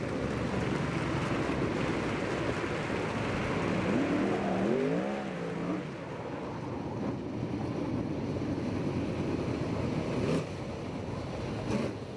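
USAC/CRA and VRA senior sprint cars racing around the oval at Ventura, California, a dense continuous roar of multiple engines with a brief rising whine in the middle, loud and sustained throughout.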